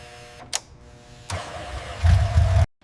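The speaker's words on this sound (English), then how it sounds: "The engine cranks for a second, then roars into a deep, rhythmic idle." A BMW R18 motorcycle engine gives a short starter crank, then catches into a rumbling idle that grows louder before cutting off abruptly.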